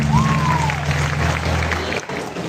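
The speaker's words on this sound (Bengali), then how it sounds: "সবাই তাদের জন্য একটু জোরে হাততালি প্লিজ।" An audience at a cultural evening marking the closing parade of a women's prison guard training batch claps loudly and continuously, a dense crowd applause with a faint voice over it.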